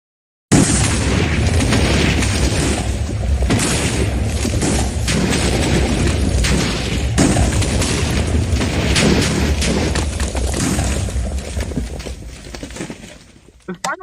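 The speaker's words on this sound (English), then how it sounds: "the line of soldiers coming under mortar fire with explosions and debris flying all around them" Loud, continuous battlefield barrage of mortar explosions with booms and bursts, flying debris and a soldier line under fire, forming a dense sustained roar in a combat simulation that cuts off abruptly at the end.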